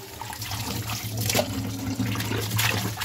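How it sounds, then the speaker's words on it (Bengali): Leafy gourd greens being rinsed in water, a steady splashing wash of running liquid with gentle surges, soft and close and without any voices. "শাক সব ভালো করে ধুতে হয়, কারণ ধুলা বালি একদম থাকে"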